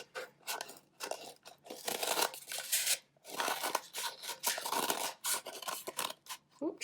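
Scissors cutting carefully through thick material for a DIY projector craft, a series of close, crisp crunching snips in uneven bursts with short pauses between cuts.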